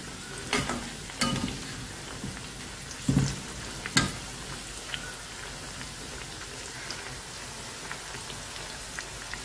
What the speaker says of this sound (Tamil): இப்போ தட்டை ஒன்று ஒன்றா எடுத்து போட்டுக்கலாம்